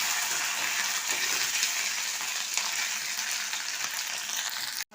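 A whole green chili and ginger paste frying in hot oil with cumin and bay leaf, giving a loud, steady, close sizzle that is unbroken and ends abruptly.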